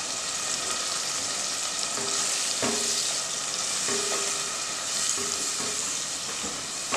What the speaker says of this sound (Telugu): దీన్ని మనం ఒక 2 నిమిషాలు ఫ్రై చేసుకోవాలి, పచ్చివాసన పోయే వరకు